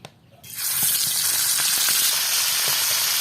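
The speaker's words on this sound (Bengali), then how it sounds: "মাছটি ভাজার পানে সয়াবিন তেল দিতে আছি" A whole snakehead fish, rubbed with salt and turmeric, hits hot soybean oil in a pan. After a brief quiet start, a loud, continuous sizzle and crackle follows with scattered pops and no talking.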